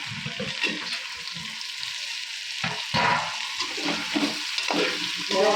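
Chili pieces frying in plenty of peanut oil for a potato curry. There is a close crackling sizzle with bursts of stirring and scraping in the pan.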